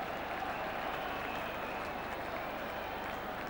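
A cricket crowd at a one-day international between India and England in Delhi applauds a boundary, a dense, steady wash of clapping and crowd noise heard from a distance with no pauses.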